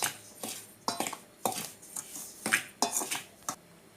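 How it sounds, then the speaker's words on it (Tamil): Rice flour and salt are mixed in a bowl, giving a series of sharp utensil clinks and scrapes against the bowl at an uneven beat of roughly two per second, close and fairly quiet, with no speech. "நல்லா மிக்ஸ் பண்ணி விட்டுறலாம்"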